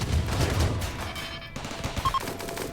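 Base turrets in RimWorld fire a dense, rapid burst of shots over the first stretch, then the barrage thins to scattered, fainter reports with a brief tonal blip near the end.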